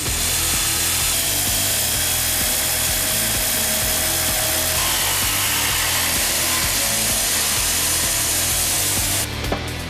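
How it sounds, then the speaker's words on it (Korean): Marble slabs are cut one by one at a stone quarry, a loud, continuous grinding saw whine with a rough, rasping texture that runs without a break until a brief cut-off at the very end. "겉돌을 깨부수고 나면 한 장 한 장 돌을 잘라낸다"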